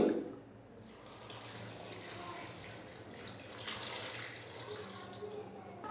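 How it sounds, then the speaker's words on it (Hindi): About a litre of water poured into a pot of mutton karahi with salt and turmeric, a continuous soft splashing pour that runs throughout at low level. "1 लीटर के करीब मैं इसके अंदर डाल दूँगा पानी।"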